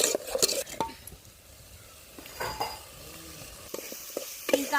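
Chicken with garam masala and other spices sizzles in a pan while a spoon stirs and scrapes through it, giving a steady close frying hiss punctuated by irregular clinks and scrapes of utensil on metal.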